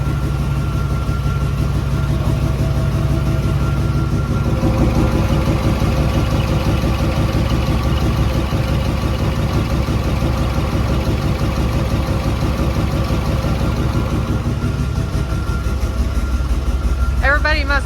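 A car engine idles steadily with a fan running, on a vehicle with a recently tightened exhaust clamp and a suspected bad injector; a continuous close rumble throughout, with a brief rattle near the end.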